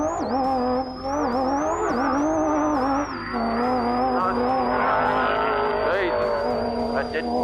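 A race car roars through the Finke Desert Race in a video game, its engine droning steadily and shifting pitch with faint tire squeal, under a speaking voice.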